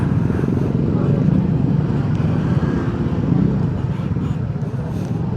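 Many motorcycles on a Sunday ride gather by a road leading to a cave church in Laurel, Batangas, a steady loud engine drone filling the whole stretch.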